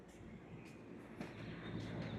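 A train rumbles at a station in Windsor, Connecticut, close by and steady, with faint metallic squeals and clanks on top and low background noise.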